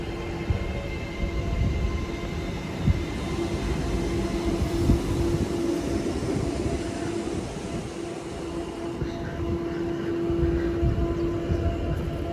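A train rolls through Stafford station with a steady low rumble and a sustained hum, a continuous mid-level rail drone over about twelve seconds without speech.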